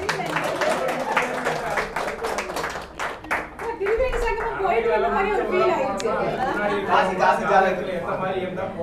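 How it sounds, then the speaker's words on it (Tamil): An audience at a Tamil astrology talk gives a round of applause, rapid clapping at first, then softening into crowd chatter with someone speaking over it. "அவருக்கு ஒரு ஒரு கைதட்டல் போடுங்க"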